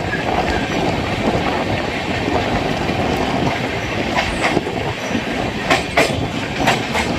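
Heard from on board, the Saharsa Humsafar Express passenger train rolls along the rails between Barauni and New Delhi with a loud continuous rumble and scattered clickety-clack beats from the wheels.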